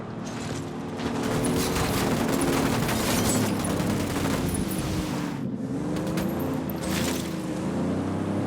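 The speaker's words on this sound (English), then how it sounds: "Opening fire." Sustained gunfire in Ghost Recon Wildlands forms a dense, continuous barrage of overlapping shots, loud and near, with a low rumble beneath and a short dip in the middle.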